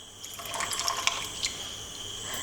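Water poured into a cup of china grass (agar) to melt it for a coconut milk pudding, a soft, faint trickling and splashing of liquid, close and steady, with no talk.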